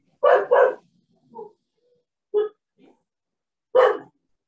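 A small dog barks in a quick double yap, then gives softer single yips and one more sharp bark, near and alone in a quiet room.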